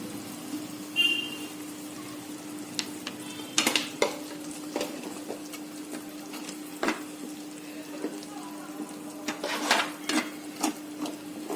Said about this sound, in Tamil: தக்காளி நல்லா வதங்கி இந்த மசாலா பொடியோட ராஸ்மல் போகட்டும்